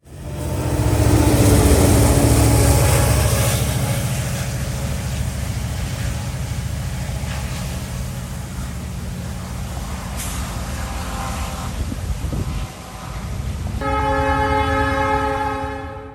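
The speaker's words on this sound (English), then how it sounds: "a UP SD70 Ace pushing as hard as he can on the rear to get 179 up the hill out of London" A Union Pacific SD70ACE diesel locomotive shoves hard on the rear of a train climbing a grade, its loud, steady engine roar rumbling continuously, with a brief dip near the end before a horn-like tonal blast sounds.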